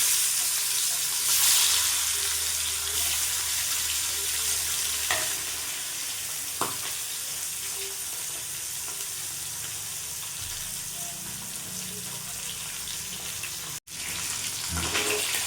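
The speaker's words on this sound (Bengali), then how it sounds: "তেল গরম হয়ে গেছে, এবার মাছটা আমি দিয়ে দেবো।" Hilsa fish fries in hot oil in a pan, a steady loud sizzle that carries on throughout with occasional light clinks and shifts, no talking.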